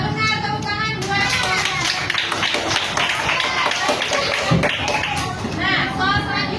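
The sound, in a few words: classroom applause for a correct answer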